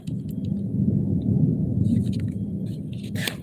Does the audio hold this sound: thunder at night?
yes